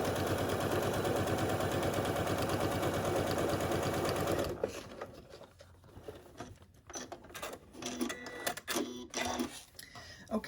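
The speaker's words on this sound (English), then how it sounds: "continue to stitch the outer layer" Sewing machine running steadily as it stitches the outer layer of a zipper scrunchie, a fast even whir for several seconds that stops, followed by quieter handling clatter and clicks.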